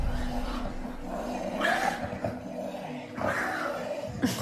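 A dog growls and snarls in a low rumbling stretch, rising into a couple of louder grumbling bursts, heard at moderate volume with no talk over it.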